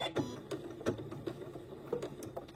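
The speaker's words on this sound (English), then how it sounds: "I'm going to back stitch" A sewing machine back stitches a short quarter-inch seam, faint close ticking and soft rhythmic thumps at a steady pace, with no voice.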